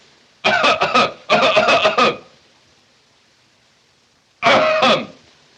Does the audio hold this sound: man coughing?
yes